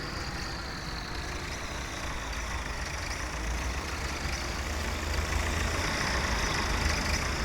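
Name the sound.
tractor engine running, 1961 farm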